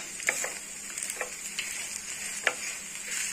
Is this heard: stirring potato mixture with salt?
yes